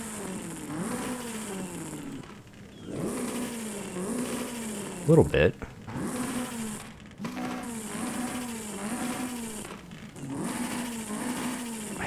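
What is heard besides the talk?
Toyota AE86 with 2JZ engine revving, Forza Horizon 5 video game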